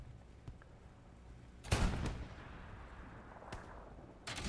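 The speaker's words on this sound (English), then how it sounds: "I hear shooting." Battlefield gunfire in the World War II shooter Hell Let Loose: one strong, booming shot with a rolling tail, then a few fainter distant cracks against a low background rumble.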